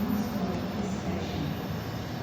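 A train speeds through an underground cut-and-cover station, giving a loud, steady rumbling roar with a hum in the low range. The sound holds constant and close the whole way through.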